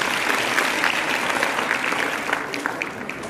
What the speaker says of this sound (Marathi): जोरात टाळ्या वाजवायच्या।